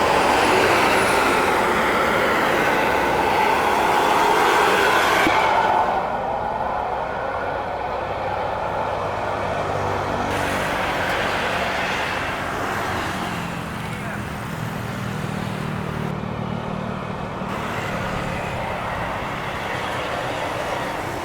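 A Sembodo intercity bus on the Lubuk Basung to Jakarta route pulls away, its engine rumble and road noise loud at first, then easing into a steadier drone as it moves off.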